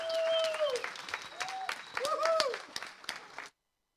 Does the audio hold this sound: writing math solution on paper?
no